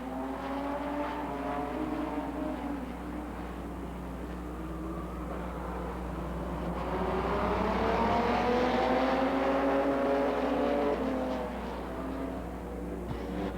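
Stock cars circling a track at a 1990 CNE race, a dense, distant roar of several engines with rising and falling pitch as they pass, steady throughout.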